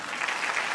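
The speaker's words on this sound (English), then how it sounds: "Let us give a round of applause to the orchestra team." At a musical evening in Kochi, Kerala, an audience claps for the orchestra team, a brief, even roar of many hands with no single claps standing out.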